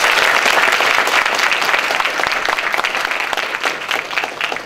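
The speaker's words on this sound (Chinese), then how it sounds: "那我们在这边用最热烈的掌声来欢迎杨院士" Warm, loud applause from a lecture audience welcoming a speaker, many hands clapping densely at first and gradually thinning and softening over nearly five seconds.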